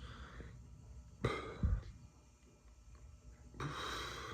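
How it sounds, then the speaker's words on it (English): A person burps once, a short guttural belch close to the microphone, followed by a second brief throat noise, with quiet room tone in between. "Burp."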